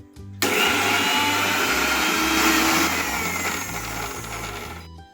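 A mixer grinder roars into a loud whirring as it coarsely grinds moong dal, starting abruptly, running steadily, then easing slightly before stopping, heard up close with no talking.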